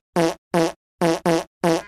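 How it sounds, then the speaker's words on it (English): Five quick cartoon fart noises from a Snorks character's snorkel, each a short buzzy toot, with the middle two back to back and the last trailing off. "He farts out of his snork hole."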